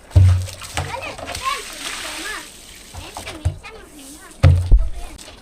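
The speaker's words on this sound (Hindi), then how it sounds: "चश्मे का पानी नल पे ज़बरदस्त आता है" Spring water pouring hard from a village tap, splashing and sloshing loudly up close, with a voice and other talk over it.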